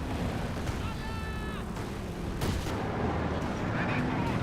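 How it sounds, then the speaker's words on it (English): Artillery barrage in the real-time strategy game Company of Heroes 2: deep, rumbling explosions and sharp blasts over a continuous battle din, with a bright crack near the middle. "And now the barrage running in somewhere"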